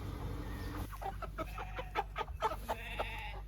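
Several meat chickens cluck in short bursts over a steady low mechanical hum as they are crated for processing, the calls close and moderately loud.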